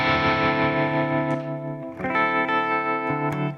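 Electric guitar played through a tremolo effect on a Tone Master Pro, sustained chords ringing with distortion and a shimmering pulse, a new chord struck partway through and left to ring alone.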